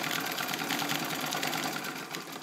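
A restored Singer 66 Blackside sewing machine from the WWII era stitches steadily through heavy material, a close, continuous whirring hum with a fast mechanical chatter that never pauses.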